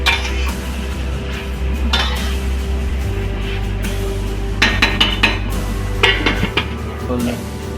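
A cooking pot lid lifted off while leafy bottle gourd greens cook, with a few sharp metallic clinks and rattles of lid against pot near the end, close and fairly loud over a steady low hum.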